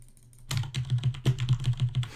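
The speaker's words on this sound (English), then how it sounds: "I think I need to start clicking slower." A mouse clicks rapidly while Minecraft is played, a close, crisp series of about a dozen evenly spaced clicks after a brief quiet start.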